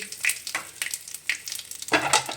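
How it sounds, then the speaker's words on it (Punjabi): Curry leaves, added after cumin, frying in hot oil in a pan: quiet crackling sizzle in short repeated bursts, ending in a fuller burst of spattering. "ਔਰ ਨਾਲ ਹੀ ਅਸੀਂ ਕੜੀ ਪੱਤਾ ਸੁੱਟ ਦਵਾਂਗੇ ਇਹਨੂੰ ਅੱਛੀ ਤਰ੍ਹਾਂ ਭੁੱਜ ਜਾਏਗਾ"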